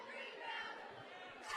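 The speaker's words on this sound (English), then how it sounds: "we do have a pretty decent crowd here tonight" Crowd noise at a girls' basketball game in a gym, a steady indoor murmur of many voices rising slightly at the end, with no single voice standing out.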